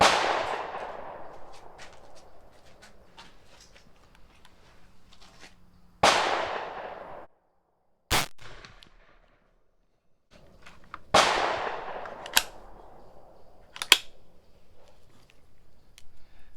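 Civil War-era Greene bolt-action rifle firing paper cartridges, with three sharp, loud reports spaced several seconds apart, each followed by a decaying echo. Fainter clinks and clicks of the bolt and handling fall in between.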